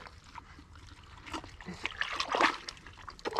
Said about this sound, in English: take some water in your hand and slick this up nice.